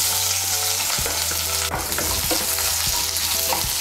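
Chopped onion frying in oil crackles and sizzles loudly and continuously, with several knocks and scrapes of a spatula stirring in the pan.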